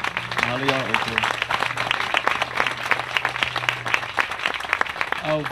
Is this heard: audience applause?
yes